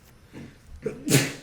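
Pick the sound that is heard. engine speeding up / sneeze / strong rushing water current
sneeze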